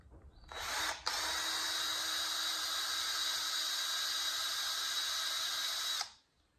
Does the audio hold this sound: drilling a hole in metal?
yes